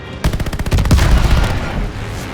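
Machine gun fire in the Call of Duty Vanguard video game: a loud, dense burst of rapid, rattling shots that blurs into a heavy roar, then trails off into a rumbling tail.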